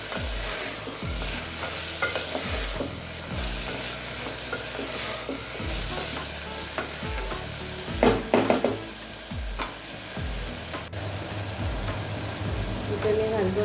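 Kohlrabi being stirred into dal frying in a pan, with a soft steady sizzle and repeated scraping strokes of a spoon, fairly quiet, with a voice talking over it.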